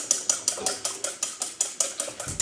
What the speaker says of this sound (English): Okay, so we're just gonna whisk this up here quickly.